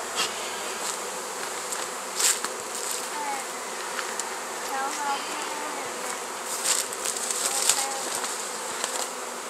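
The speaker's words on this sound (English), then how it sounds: "They're gonna be happy bees in this one." Honeybees buzzing steadily close by after being forced to abscond from a bee tree, a continuous insect drone with occasional louder passes as individual bees fly near.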